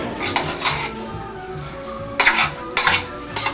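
Margarine scraped from a container with a utensil while making Kraft Dinner: a few short, scratchy scraping and clinking strokes, close and fairly loud, separated by quieter pauses.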